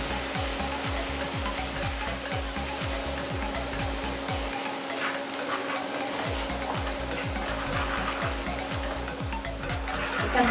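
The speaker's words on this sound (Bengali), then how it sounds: "এটা ভালোভাবে কষে নিতে হবে মশলাটা" A spice paste of chilli powder, green chillies and ground cumin-coriander being fried in a pan, giving a continuous close sizzle and hiss with a regular scraping stir rhythm and a steady background hum.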